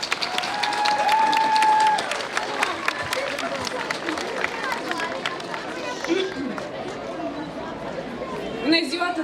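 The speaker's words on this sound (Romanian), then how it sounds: "Aplauze pentru cea mai bună directoare" An audience applauds for a school principal at a high school graduation, with clapping strongest at the start, then dwindling into crowd chatter and voices.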